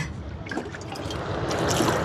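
Water poured and splashing steadily into a container to soak dried fish, continuous and close, with a faint outdoor background.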